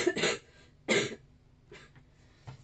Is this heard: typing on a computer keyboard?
no